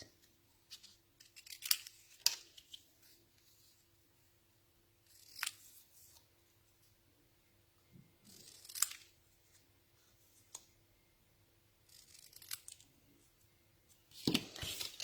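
Scissors trimming craft material for handmade cards, heard as several short, close snipping bursts separated by quiet gaps, with faint handling noises and no talk.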